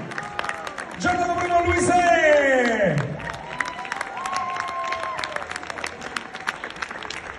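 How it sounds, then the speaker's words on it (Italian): An audience applauds and cheers at a live rock concert as a band member is introduced, the clapping swelling early then thinning into a softer patter while a voice speaks over it. "l'applauso"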